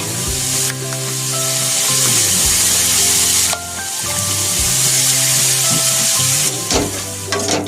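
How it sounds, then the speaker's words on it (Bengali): Spice paste for a mustard stingray curry sizzles steadily in a pan. A continuous hiss with brief dips runs under a tonal musical background. "তো মশলাটা আমি খুব ভালোভাবে ভেজে নিয়েছি"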